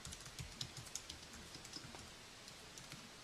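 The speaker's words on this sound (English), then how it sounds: "So now I can type on my physical keypad" Soft, quick clicks of keys tapped on an Apple iPad Keyboard Dock's physical keyboard, an irregular patter at low volume with no talking.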